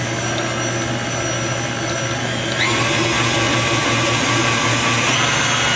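An electric mixer with a whisk attachment whirs steadily through sweet potatoes and sugar, a constant close motor hum that steps up slightly in loudness partway through.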